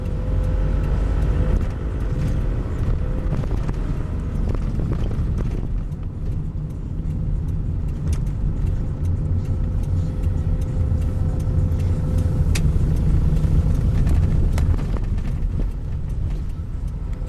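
City bus on Route 4 in Glasgow turning off Anniesland Road into Southbury Drive and driving on, a continuous low engine rumble with rattles and knocks from the cabin, steady and close throughout.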